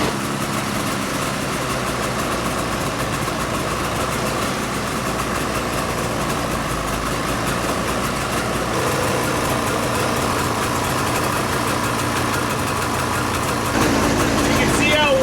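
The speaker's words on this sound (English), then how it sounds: "We're just going to fire this sled up. Let it warm up for a second." Snowmobile engine started and left idling to warm up during summer storage prep, a steady close rumbling drone filling the whole stretch with a slight change near the end.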